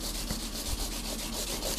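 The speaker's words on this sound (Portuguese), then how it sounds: "Dar uma lixadinha. Aliás, eu vou lixar já." Frets on a Gibson G3 guitar are sanded by hand, a close, continuous scratchy rubbing with a gentle back-and-forth rhythm under a steady hiss and no voices.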